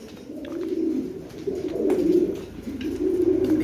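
A big-sized pigeon coos in a steady, low, throaty rhythm, close and fairly loud, with swells of cooing repeating over a few seconds and no talking.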